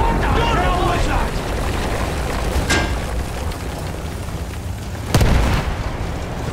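Explosions in the video game Battlefield 1 hit as two booming blasts, one mid-clip and a louder, deeper one near the end, over constant battlefield rumble with voices talking early on.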